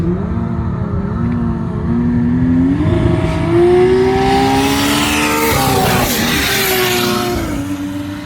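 A Toyota KE70 panel van with a billet 2JZ engine does a burnout at a Brisbane roll racing event: loud, sustained high revs that rise and fall, with a growing roar and hiss of spinning tyres.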